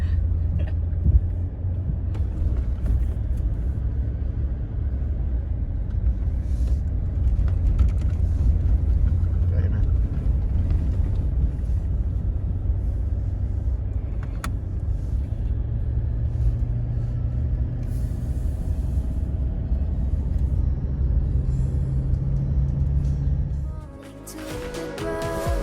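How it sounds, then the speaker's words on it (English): An off-road vehicle rumbles through a swamp on a Victorian High Country track, a steady low engine drone with occasional knocks and splashes. People talk in the cabin. "We're basically driving through a swamp."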